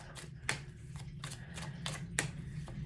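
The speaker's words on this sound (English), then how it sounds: "I'm just going to pull a couple more cards" Tarot cards are pulled and shuffled by hand at a reading, making a series of crisp riffling bursts roughly every half second. The sound is close but soft, with no talking.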